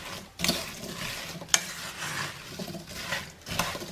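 Spoon stirring cranberries, orange rind and granulated sugar in a pot, giving close, intermittent scraping and rustling strokes with a few sharper clinks against the pot, and no talk.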